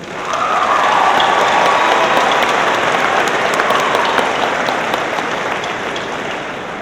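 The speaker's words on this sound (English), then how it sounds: "Let's give them all a round of applause" A large crowd applauds at a high school graduation ceremony, a loud, sustained roar of many hands with a faint cheer near the start, holding steady and easing slightly toward the end.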